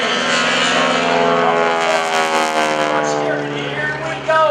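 Wingwalking biplane at an airshow, a steady loud droning engine and propeller roar with harmonic tones, passing close without fading, under a talking announcer.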